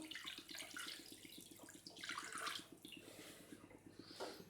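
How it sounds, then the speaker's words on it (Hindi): Water pours into a pot of Pakistani street-style chicken yakhni soup, a steady splashing stream running throughout at moderate level, with a low hum beneath. "तो इसके अंदर 2 कप पानी मैं शामिल कर रही हूँ।"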